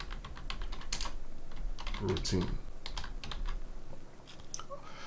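Clicking keys on a computer keyboard tap in quick, uneven bursts as text is entered, close and clear under a continuous low hum, with a voice speaking briefly partway through.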